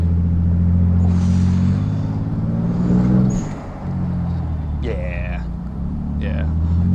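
Steady low engine drone of a Toyota Supra on the move, holding a deep rumble with slight rises and dips in pitch, close and continuous, with a voice talking over it.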